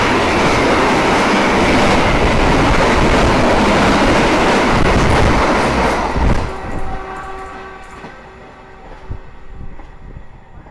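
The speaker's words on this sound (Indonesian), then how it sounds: "Itu dia kereta api Argo Wilis, ngebut banget ya." The Argo Wilis express train roars past at high speed, close and loud, with a dense rushing rumble and wheel clatter that ends abruptly. Scattered clacks and a lighter rattle fade away after it.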